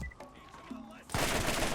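Gunfire in the video game Borderlands: after a stretch of game sounds and tones, a sudden loud, sustained blast of rapid shots fills the end, with a voice faintly under the mix.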